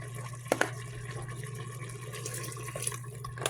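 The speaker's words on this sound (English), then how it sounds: "I think I'm going to add just a little more beef broth to that." Beef broth pours into a pot of thick enchilada sauce, a short, close liquid trickle and splash over a low background hum, with a couple of small knocks near the start and no speech.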